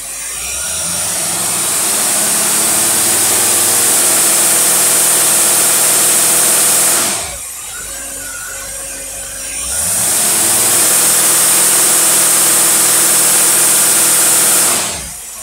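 A car engine fitted with a Holley two-barrel carburetor with electric choke runs under load on a dynamometer, a loud steady drone with a high whine that dips briefly midway and then returns to full strength.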